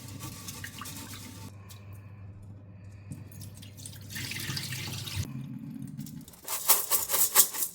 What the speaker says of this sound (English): We're going to go ahead and wash the rice.